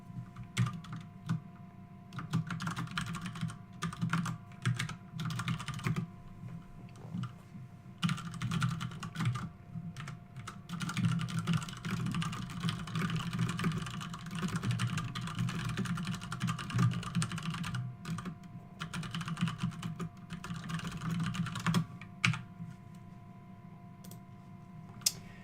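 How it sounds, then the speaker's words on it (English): Fast typing on a computer keyboard, a long, dense run of rapid close key clatter with brief pauses between bursts. "Making my notes down here. Typing fast."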